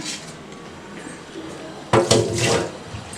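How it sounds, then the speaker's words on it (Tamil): Water splashes and pours briefly into a bowl of adai dosa batter after a quiet stretch of room noise, close and moderately loud for about a second. "நம்ம கொஞ்சம் தண்ணி விட்டுக்கிடலாம்"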